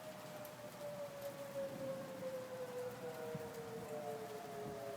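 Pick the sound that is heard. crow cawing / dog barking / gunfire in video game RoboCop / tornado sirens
tornado sirens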